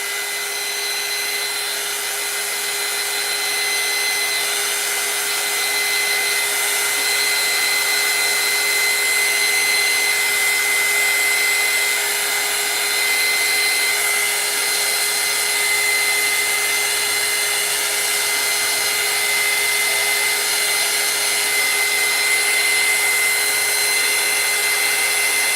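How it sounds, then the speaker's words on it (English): Air dryer blowing on a craft piece, a constant loud hiss of rushing air with a faint steady whine running unchanged for the whole stretch, no talking. "let me put the air dryer on this just a hair"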